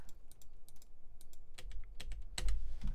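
Computer keyboard keys and mouse clicks during work in the Reason music software: quiet, scattered clicky taps, sparse at first and then quicker and slightly louder toward the end.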